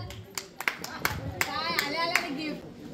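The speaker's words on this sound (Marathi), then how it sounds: "जोरदार टाळ्या." Applause at a children's birthday party, a burst of sharp hand claps that starts scattered and builds into steady clapping, with children's voices and chatter mixed in.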